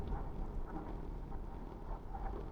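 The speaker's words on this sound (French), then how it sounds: "il pleut pas fort, mais bon." Light rain falls outdoors on an early-morning bike ride along the route of stage 2 of the 2025 Tour de France at Lauwin-Planque, a faint, even hiss of drops with no talking.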